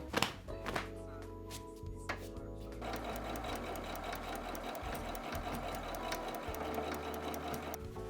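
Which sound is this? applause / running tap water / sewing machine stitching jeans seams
sewing machine stitching jeans seams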